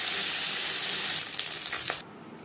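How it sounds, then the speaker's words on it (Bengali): Small mourola fish frying in hot oil in a pan, a steady close broadband sizzle that crackles and fluctuates partway through, then drops sharply quieter near the end. "অল্প অল্প করে ভেজে নেব।"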